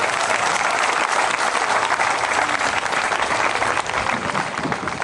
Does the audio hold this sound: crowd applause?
yes